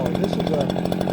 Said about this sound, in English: 59 point something cc chainsaw